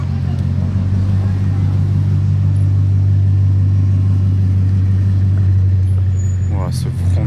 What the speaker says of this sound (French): J'entends un gros vrombissement.